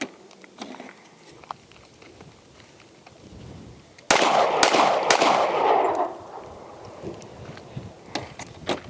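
A Springfield Hellcat RDP pistol fires a quick string of several loud, sharp gunshots that ring out and decay over a couple of seconds, set against quieter background noise before and after.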